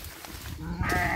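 Sheep bleating on a farm with ewes that have recently lambed, a short bleat rising near the end over steady background noise.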